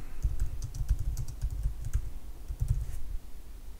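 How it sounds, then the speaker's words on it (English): Keys clatter on a computer keyboard in quick, uneven bursts of clicks with short pauses between, close and fairly loud, while a company name is typed into a search. "So I'm just going to be typing it in at this point."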